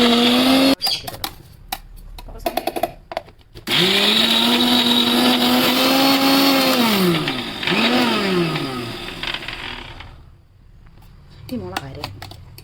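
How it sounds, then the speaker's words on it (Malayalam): A mixer grinder whirs loudly in bursts as it grinds pappadam chutney, its pitch rising and dipping between pulses and then stopping before a short final spin. "നമുക്ക് അരച്ചെടുക്കാം."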